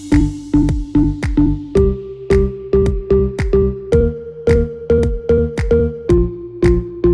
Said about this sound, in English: I'm playing a different melody, while drumming with my left hand using the sampler.